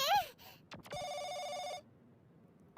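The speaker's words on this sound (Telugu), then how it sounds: "ఫోన్ వస్తోంది." A cartoon telephone rings in one sustained electronic trill of about a second, clear and close, after a brief burst of talk, then silence.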